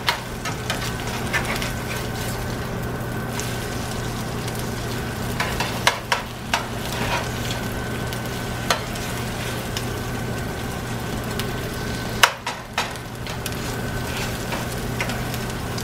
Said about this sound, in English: Fried eggs ain't gotta be all pretty in a perfect circle.